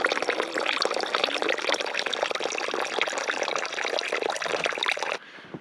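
Water from a mountain spring runs and pours steadily in below-freezing winter cold at an off-grid homestead, a continuous near splashing trickle with no talking that cuts off abruptly just before the end.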